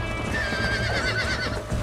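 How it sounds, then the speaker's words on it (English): A horse in Red Dead Redemption lets out a loud, close whinny over rapid galloping hoofbeats, a brief burst of in-game action. "God damn, this horse is running his ass off."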